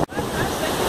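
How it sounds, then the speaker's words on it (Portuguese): Waves break and wash over rocks on a beach, a loud, continuous roar of surf close by with steady splashing throughout. "Olha, tá dando umas ondas no grau aqui."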